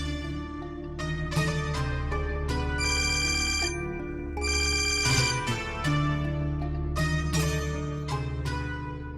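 A mobile phone plays a loud melodic ringtone on an unanswered call in a TV drama, with bright repeating tone patterns and brief pauses between phrases.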